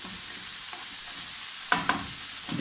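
Bell pepper seasoned with a good pinch of salt sizzles steadily in a frying pan, a constant close hiss with a few brief stirring scrapes near the end.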